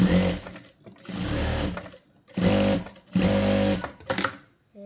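A sewing machine stitches small pieces of fabric in four rapid whirring bursts separated by short pauses, heard up close.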